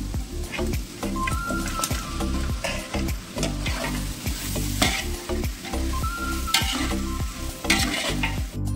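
Cooked mutton being stir-fried in a pan for a Kolhapuri mutton sukka, with steady sizzling and repeated scraping, stirring strokes, loud and close, no voices.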